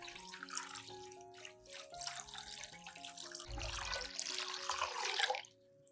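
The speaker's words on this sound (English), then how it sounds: "Add 1 liter of clean water to dilute the solution." Clean water poured to dilute an orchid nutrient solution, a quiet continuous liquid pour with gurgling and splashing into a container, swelling briefly louder before stopping abruptly near the end, with soft background music underneath.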